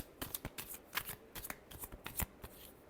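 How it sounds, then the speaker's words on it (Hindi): A deck of tarot cards gets a quick hand shuffle, a rapid run of close, papery flicks and riffles repeating for about three seconds with no talking. "last shuffle"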